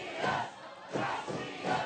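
A Lucha Libre wrestling crowd cheers and yells in three rising-and-falling surges, fairly distant and moderate in level, with no clear single voice standing out.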